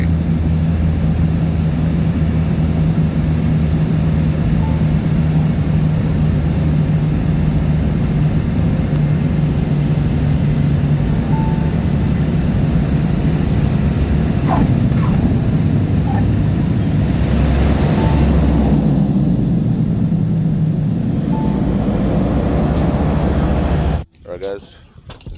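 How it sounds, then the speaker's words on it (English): Cabin drone of a small airplane on a short seven-to-eight-minute flight in Tonga, a loud, constant engine roar that lasts throughout and then drops away sharply at the very end. "I just got off the plane, and yeah, that's the 7-8 minute flight."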